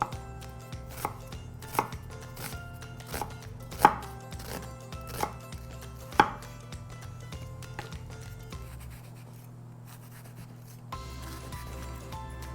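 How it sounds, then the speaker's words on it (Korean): Onion being finely minced with a knife on a cutting board, a quick series of crisp sharp chops with a few louder strikes, then a pause and softer gathering scrapes, over a faint steady background hum. "양파를 조금 다져갖고 넣을게요."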